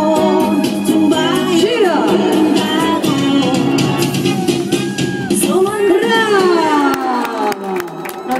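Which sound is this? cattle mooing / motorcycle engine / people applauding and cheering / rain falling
people applauding and cheering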